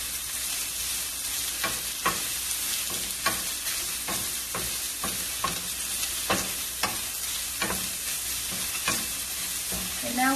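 Carrots stir-frying for noodles in a hot pan, a steady sizzle broken by repeated scraping stirs of a utensil at a regular pace, close and alone.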